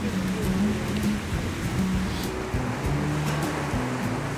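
Sea waves wash steadily against the shore on a choppy day of fishing, giving a loud, continuous surf roar with low rumbling underneath, close by and without talk.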